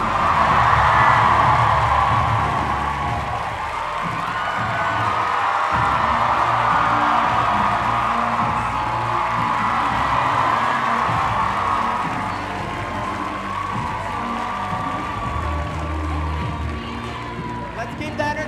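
A school assembly crowd cheers and claps loudly, the roar swelling and fading across the stretch, with whoops and children's shouts mixed in and a voice speaking over it.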